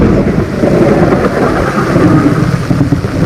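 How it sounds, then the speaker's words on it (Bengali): Thunderstorm with heavy rain over a flooded village, a deep rolling rumble of thunder sustained beneath steady rainfall, loud and close, no voices. "বিশাল জোরে জোরে বিদ্যুৎ চমকা চাকা যাচ্ছে"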